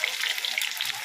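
Onions sizzle and hiss steadily in a hot pan, a bright continuous frying crackle close up with no voices.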